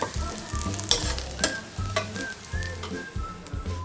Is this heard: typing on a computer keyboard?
no